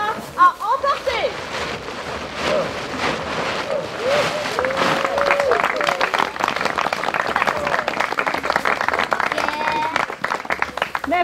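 Audience applause at an outdoor street theatre show, dense crowd clapping building up and sustained for several seconds, with voices and cheers mixed in.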